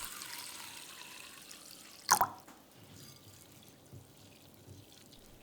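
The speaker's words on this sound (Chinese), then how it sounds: "加水清洗。" Water splashes briefly into a bowl of peeled mung beans being rinsed, one short close pour then faint drips in a quiet kitchen.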